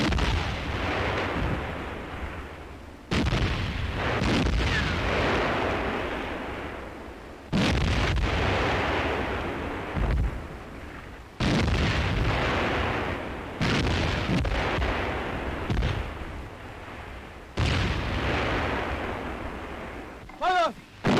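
Heavy infantry guns boom repeatedly every few seconds, each sharp blast followed by a rumbling decay, with faint voices in between.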